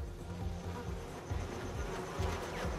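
Bees foraging among flowers give a steady, close insect buzz that hums continuously with slight swells, no voices present.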